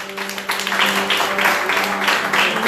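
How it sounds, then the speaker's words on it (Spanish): A church congregation claps together in a dense, steady burst of applause over a low sustained tone, loud and close. "Un aplauso al Señor esta tarde"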